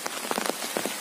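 Heavy storm rain in Assam falls steadily in a dense, close hiss, with the patter of individual drops striking surfaces throughout.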